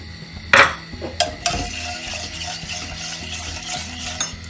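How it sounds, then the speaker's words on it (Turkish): A spoon scrapes and clinks around a pot on a lit stove as milk, sugar and flour are stirred for a magnolia dessert, with a sharp knock early on, then steady circular scraping. "Ve karıştırmaya devam ediyorum."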